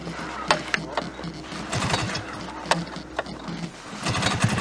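A vintage snowmobile engine runs with a rough, buzzy drone, broken by a few sharp clicks and knocks and swelling slightly near the end, while people talk close by.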